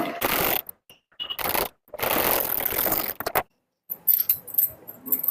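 Electric sewing machine stitching a blouse back-neck piece with a half-inch seam, running in several loud bursts of rapid whirring and clatter separated by short pauses, with softer handling sounds at the end.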